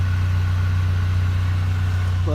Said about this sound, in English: We're just idling and cruising.